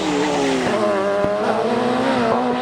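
A 1986 Formula 3 race car screams past at Donington Park during a historic race, its high-revving engine loud and close, the pitch sliding through gear changes.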